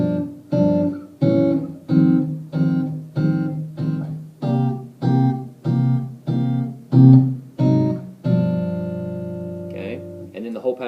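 An acoustic guitar strums the closing four bars of a 12-bar blues progression in G, evenly spaced rhythmic chord strokes ending on a sustained, ringing final chord.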